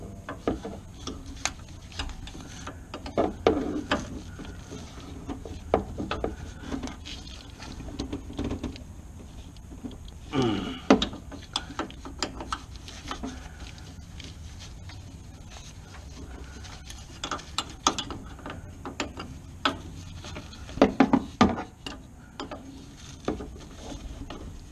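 A wrench tightens the steering gearbox adjustment nut on a 1995 Chevrolet C1500 pickup, giving sporadic metallic clicks, ratcheting and clunks of moderate loudness with pauses in between, and no voices.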